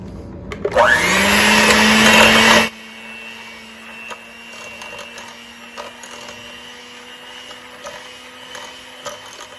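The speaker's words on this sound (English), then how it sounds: "So then we're going to mix this together." An electric mixer blends cookie dough with a loud, steady motor whir for about two seconds, then cuts off abruptly, leaving a quiet room.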